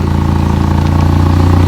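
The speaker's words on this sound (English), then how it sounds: "I'll just give it a quick rev and you can hear the blow in the exhaust." A car engine with a badly rusted, blowing exhaust, heard up close at the back: a loud, rapid chuffing pulse that rises into a brief rev, raw and rattly throughout.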